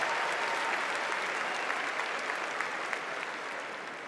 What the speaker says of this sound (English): Let's give Brian and Sandra another round of applause.